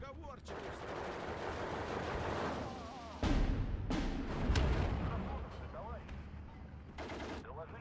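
A rocket artillery barrage in the Steel Division 2 video game hits a hill with a loud, continuous rumble of impacts. Heavier bursts of blasts surge in midway, then fade into scattered crashes.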